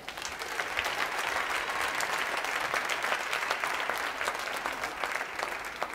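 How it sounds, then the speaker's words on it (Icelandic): Spectators at a gymnastics meet give steady, sustained applause that fills the hall at an even level throughout, with no voices over it. "Ég vil bara klappa fyrir þeim."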